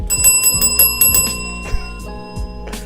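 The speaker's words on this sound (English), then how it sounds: "Let me hit the bell on that." Repeated bright metallic bell rings struck in quick succession, loud and close, with ringing tones that sustain and overlap before fading, added as a sound effect with no talk.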